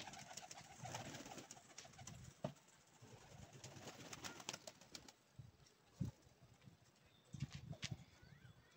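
Pigeons coo at a home loft over a steady bed of chatter and soft wing flaps, with a few sharper clatters as the birds shift around. No speech is heard.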